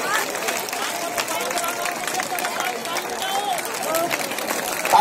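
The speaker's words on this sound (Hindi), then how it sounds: "ताली बजाते हैं सम्मानीय भाई भाई द्वारा, क्षेत्रीय लोगों द्वारा सम्मान हो रहा है" Crowd at a rally for Chief Minister Vasundhara Raje in Jhalawar clapping steadily, a moderate, continuous patter of many hands mixed with background murmur and voices.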